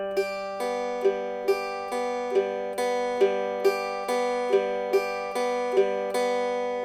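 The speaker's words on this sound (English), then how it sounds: "Arpeggio, meaning picking notes in a chord throughout the chord" A Loog guitar plays an arpeggio picking pattern from a song, single notes plucked in a steady, even rhythm over a held chord, clean and close with no talking.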